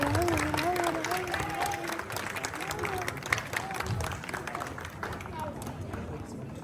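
Applause from an audience at a baptism celebration, a continuous wash of clapping and crowd noise lasting several seconds while someone speaks over it.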